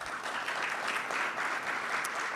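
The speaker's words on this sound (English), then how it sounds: "Round of applause again for Beres." A round of applause fills a hall at a CARICOM Resilience Fund launch event, steady dense clapping from a seated audience held at an even level throughout.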